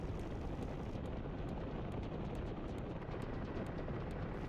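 Helicopter in a DCS or War Thunder flight sim game: a loud, continuous rotor and engine roar with a steady chopping texture fills the whole stretch, no voices over it.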